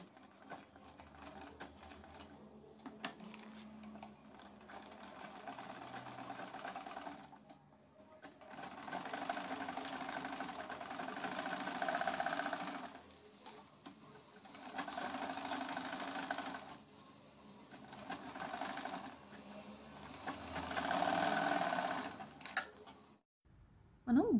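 Domestic sewing machine running in steady bursts as it stitches a readymade patch-work neck piece onto a blouse, close and continuous with brief pauses between runs.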